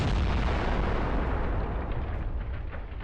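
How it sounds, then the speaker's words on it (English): Massive explosion of tank ammunition after a kamikaze drone strike in the Russia-Ukraine war, a sustained heavy roar and rumble that stays loud throughout and fades only slightly at the end. "The explosion was so powerful that the tank's turret was blown off."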